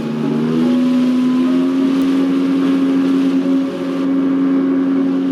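A boat engine drones steadily and loudly at close range, holding a strong low hum while it tows a hunters' boat with engine trouble to shore in Alaska, with wind noise over it.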